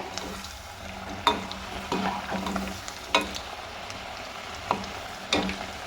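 An onion snack fries in oil over a low gas flame, with a soft continuous sizzle broken by several sharp clinks and scrapes of stirring, heard close with no talking.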